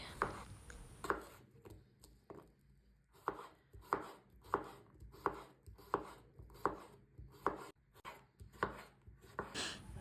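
A knife chops fresh cucumber into medium pieces on a cutting board in quick, regular strokes, crisp close-up knocks repeating about once a second.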